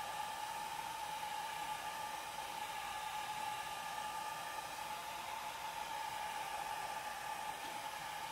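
A hair dryer runs steadily on tile to dry red alcohol ink, a constant loud blowing whoosh with a high motor whine that holds unchanged the whole time, with no voices.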